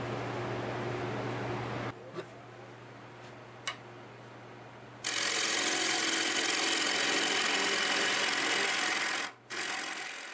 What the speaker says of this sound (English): we'll take negative rate scraper over this area.